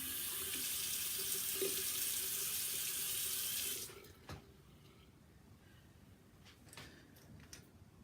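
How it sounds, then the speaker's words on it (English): Running tap water pours steadily into a sink while a makeup brush is rinsed, a close continuous splash that cuts off abruptly partway through, leaving quiet with a few soft clicks and handling noises. "as you're rinsing under the water, you always want it pointing down"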